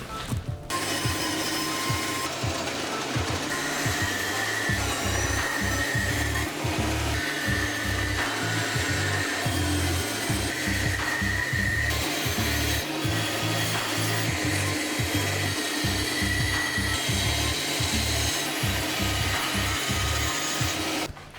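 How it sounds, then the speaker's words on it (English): Bandsaw cutting through solid oak, a continuous loud whirring motor with a grinding rasp that rises and eases as the blade feeds through the wood, no talking. "let's chop this on the bandsaw"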